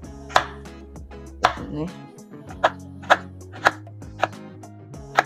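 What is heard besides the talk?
chopping palm sugar into small pieces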